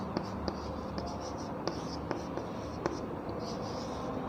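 Chalk or marker scratching a classroom board in short strokes and taps while a median formula is written, close and fairly quiet, no talking.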